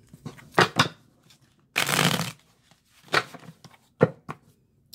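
Tarot cards shuffled by hand in a short riffling burst near the middle, with a few lighter card taps and slaps before and after, close and alone.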